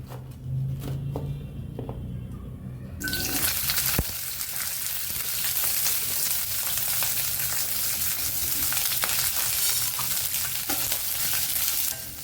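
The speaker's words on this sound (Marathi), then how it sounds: "तेल तापले यामध्ये आता फ्लावर घालून घेऊया" Cauliflower is tipped into hot oil for a vegetable dish and bursts into a loud, steady sizzle. A stir and a soft clatter come first, then continuous bright frying crackle holds up close to the end.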